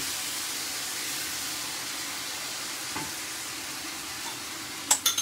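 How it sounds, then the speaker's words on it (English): Pan-fried vegetables sizzle and hiss steadily in a frying pan at moderate level, with a few louder scraping stirs near the end. "Let this stir one last time."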